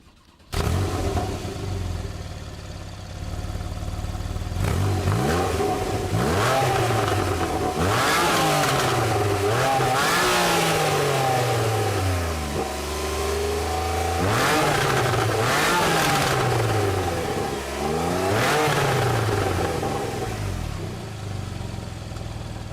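A 3.8-liter naturally aspirated boxer six in a Porsche 911 Carrera S with 75,386 miles runs loud and close, repeatedly revving up and dropping back through a rising and falling engine note.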